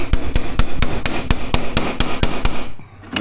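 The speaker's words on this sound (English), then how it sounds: "Let me grab a hammer." A hammer strikes a garage door panel to force it into place, about a dozen sharp, loud, evenly spaced blows close by, then a brief pause.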